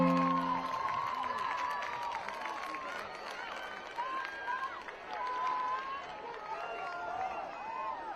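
Home crowd at a high school football game cheering after a defensive stop, a broad roar of fans with whistles and shouts, partly under a commentator talking.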